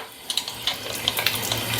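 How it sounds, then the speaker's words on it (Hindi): Water runs from a kitchen tap with a low-pressure problem, a steady broadband flow with small splashy clicks on top, fairly close and alone. "ये टैप को खोलना पड़ेगा"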